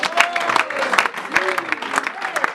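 A church congregation at a deliverance and healing service claps and cheers for Jesus, with uneven bursts of applause and shouted voices, loud and close, and a speaker's voice heard under the noise.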